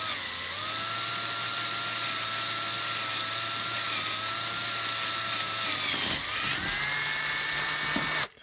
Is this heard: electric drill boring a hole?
yes